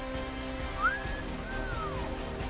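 Rain falling steadily during a hot spell in Brasília's Federal District, a constant broadband patter with a faint whistle-like tone briefly rising above it.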